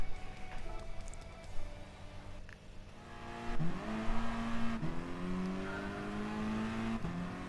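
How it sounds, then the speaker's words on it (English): A race car engine in the PS4 driving game Gran Turismo Sport revs and accelerates through the gears, with rising whines that drop at each shift and steady engine drone in between. "I can't get over how sick this car sounds."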